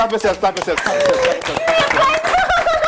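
Clapping from a studio crew wrapping up an early-morning TV game show, a burst of sharp hand claps running under continuous lively talk and some chuckling.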